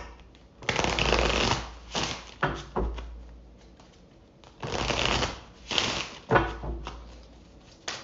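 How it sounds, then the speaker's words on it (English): A deck of Love Oracle cards being shuffled for a tarot reading, heard close as several bursts of riffling and sliding cards separated by short pauses. "Actually, let's take out Love Oracle cards."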